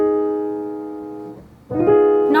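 A jazz piano plays an altered dominant seventh chord with both flat nine and flat thirteen, sustained and fading, then struck again as a second sharper voicing near the end, alone without talk.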